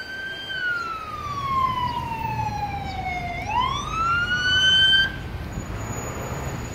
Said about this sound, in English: that's how you properly respond. Lights and sirens.